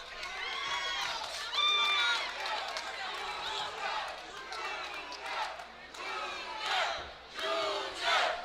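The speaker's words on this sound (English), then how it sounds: "Crowd is shouting Junior for Gonzalez." Boxing crowd at a promotion bout roars and chants for a fighter, a dense, loud wall of massed voices with repeated surging shouts rising and falling throughout.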